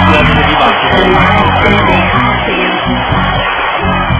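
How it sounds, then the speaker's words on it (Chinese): A studio audience at a televised dating show applauds and cheers as a couple pairs up. Dense, loud applause runs continuously with whoops and shouts mixed in, and there is no clear talk above it. "现在呢，我们要把掌声送给李刚和黄莹"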